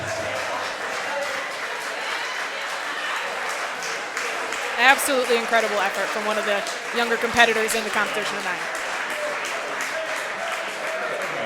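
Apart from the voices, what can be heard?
wrestling crowd applauding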